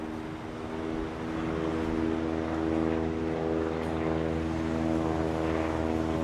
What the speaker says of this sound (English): That is the airplane we have flying all over downtown Indianapolis right now